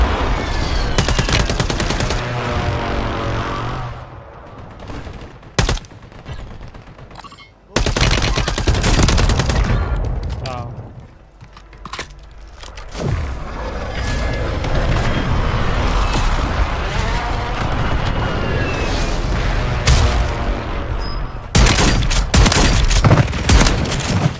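Reclaimer 18 shotgun fire in Warzone 3, with loud, booming blasts in bursts and separate single shots. Short gaps and quieter stretches fall between the bursts, and a brief voice is heard near the start.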